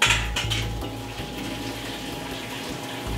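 Boiled parsnips and vegetables are drained from a saucepan, with a close, steady rush of pouring water and a couple of soft metallic knocks near the start, no talking.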